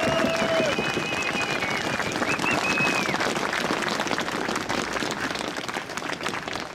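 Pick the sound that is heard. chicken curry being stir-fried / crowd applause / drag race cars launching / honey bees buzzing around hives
crowd applause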